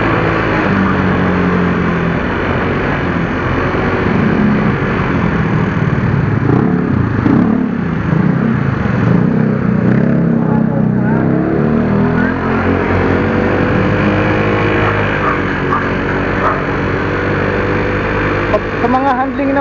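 A 2008 SYM Radar 125 scooter engine runs steadily on a test ride, a loud, constant buzzing drone with slight rises in revs and road noise, heard close up throughout.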